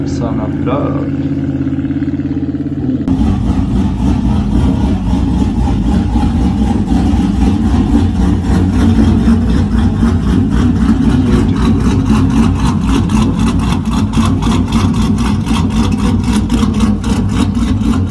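A lifted squat truck with a loud exhaust idles off-road, a deep rumbling drone that kicks in after a quiet start and stays steady and close.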